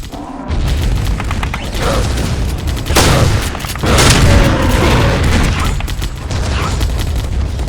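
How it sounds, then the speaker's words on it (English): Heavy booms and rumbling blasts roll almost continuously, with louder bursts around the middle, like explosions and gunfire in the video game Vivisector: Beast Within, dense and close. "I'm also getting hit by explosions through the ceiling."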